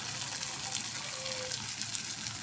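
Tofu and tempeh dropped into hot oil set off a steady, close hiss and bubbling sizzle that holds evenly throughout, with no voices over it.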